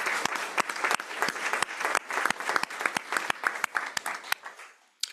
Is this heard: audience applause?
yes